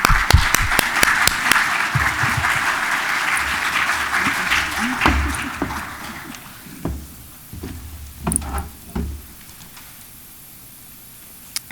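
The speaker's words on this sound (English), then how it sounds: "So please join me in applauding her." Applause from a linguistics conference audience welcoming a plenary speaker, a steady burst of clapping that fades after about six seconds, leaving a few scattered claps and faint rustling.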